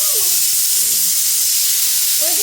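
A pressure cooker releasing steam, a loud, unbroken hiss filling the whole moment at close range, with faint voices talking underneath.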